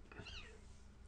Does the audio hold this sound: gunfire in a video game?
no